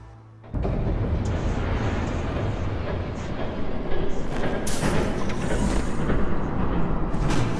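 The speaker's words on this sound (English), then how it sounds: "There's a train coming." A train approaches in Batman: The Telltale Series, a heavy rumbling roar that swells in suddenly and stays loud and steady, with rattling clatter building over the last seconds.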